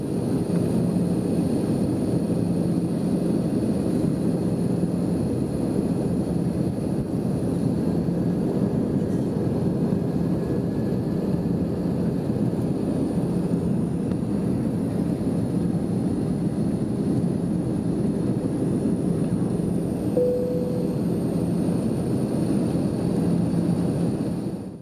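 Steady, unbroken airliner cabin drone during descent on final approach to Düsseldorf airport, a loud continuous rumble with a faint whine, heard alone without talk.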